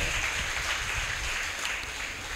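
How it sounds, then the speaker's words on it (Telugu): Congregation clapping during a Sunday morning Telugu church service, a steady, fairly faint wash of applause that carries on throughout. "చప్పట్లు కొట్టేసే నామాన్ని కనపరుద్దాం."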